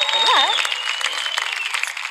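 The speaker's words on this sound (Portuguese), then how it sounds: "E Blue Eye, um grande aplauso também, que acompanhou Peruca" A TV talent show audience on The Voice stage applauds a performer, scattered clapping with a rising whistle or cheer at the start, then a thinner, steady patter that fades slightly.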